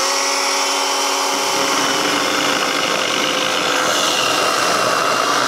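A Dedra cordless circular saw cuts firewood with a loud, continuous high whine and rasp that holds steady throughout, close by and with no pauses.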